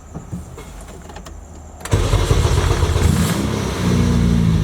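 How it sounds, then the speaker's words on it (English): A car being switched over to E85 fuel starts up with a sensor connected: after a soft whir and clicks, the engine catches abruptly and settles into a loud, steady idle that rises slightly near the end. "Go ahead and start the car."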